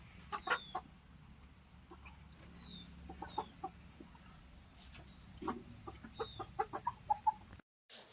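Chickens let out to roam cluck and call close by in a quiet rural yard, with a run of short repeated clucks toward the end.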